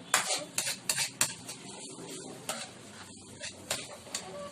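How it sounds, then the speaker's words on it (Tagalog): A spoon stirs and scrapes around a pot of chocolate sauce made from Choc Nut powdered candy and water, giving a run of quick irregular clinks and knocks against the metal over a soft background hiss. "Yan po, halo."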